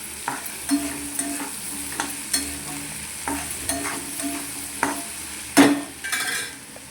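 A stir-fry of fresh green chickpeas, just salted, sizzles softly in a pan while a spoon stirs it in distinct scraping strokes with a few sharper clinks against the metal. No voices are heard.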